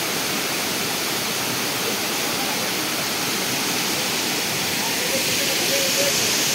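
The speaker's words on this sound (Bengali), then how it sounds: "এটা বামিনী ফলস, পুরুলিয়ার বিখ্যাত ঝর্ণা বামিনী ফলস।" Bamini waterfall in Purulia roars as a steady, dense, loud rush of falling water, unbroken from start to finish with no other sounds standing out.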